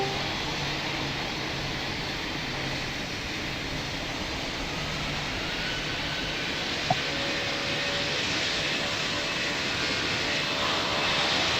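An airliner takes off in the Pilot Training Flight Simulator video game: a steady, moderately loud jet engine roar with a broad hiss that stays constant throughout, and no talking.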